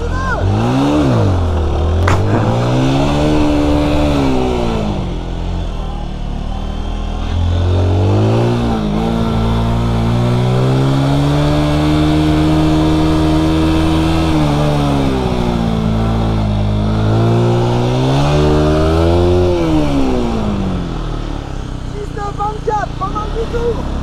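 A motorcycle pulls away from a start line at a riding course, its engine revving up and falling in repeated rising and falling sweeps, loud and close, with a voice talking over parts of it.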